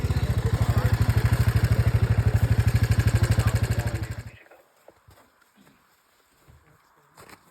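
A Royal Enfield motorcycle in Manali thumps loudly at close range with a steady, rapid pulsing beat for about four seconds, then cuts away to faint background noise and scattered distant sounds.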